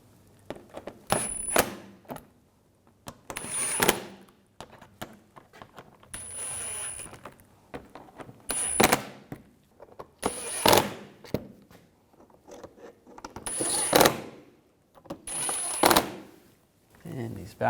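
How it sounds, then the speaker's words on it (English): Bolts are tightened down on a 2011-2018 Volkswagen Jetta during an oil pressure switch replacement, with about eight short, sharp bursts of metallic clicking and ratcheting spaced a second or two apart, close by against quiet gaps. "Now we can tighten these down."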